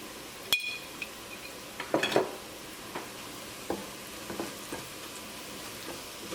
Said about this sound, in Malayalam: സവോള ഇതേപോലെ നന്നായിട്ട് ഇങ്ങനെ മുരിഞ്ഞു തുടങ്ങുമ്പോൾ പിന്നെ അത് നിർത്താണ്ട് ഇളക്കിക്കൊണ്ടിരിക്കണം